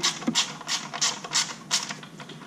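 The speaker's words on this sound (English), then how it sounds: "And when I torque them, tighten them down." Nuts tightened with a wrench on the foot of an Adventure Pluma carbon fiber paramotor, a quick series of close ratcheting clicks in uneven bursts, crisp and fairly loud.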